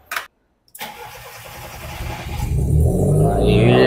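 A Volkswagen Gol with a car engine turns over after a brief click and a moment of silence, catching and settling into a loud, rising idle close by, with no one talking over it.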